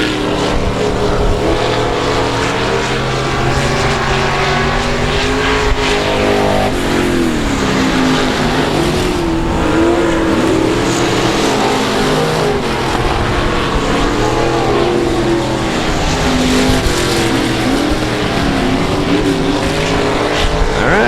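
Race cars roar around South Texas Speedway in a continuous loud engine drone, pitches rising and falling as cars accelerate and pass, several machines overlapping throughout with no gaps.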